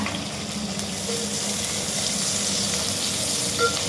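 A large sliced onion sizzles in hot oil with green chillies for foxtail millet kichadi, making a steady, moderately loud frying hiss.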